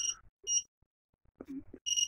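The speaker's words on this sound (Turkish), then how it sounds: "Hafif sallantıda görüyorsunuz uyarı sistemimiz çalışır vaziyete geçiyor" An Arduino earthquake warning system's buzzer alarm, set off by vibration, gives short repeated high electronic beeps in bursts with brief gaps, close and fairly loud, alone without talk.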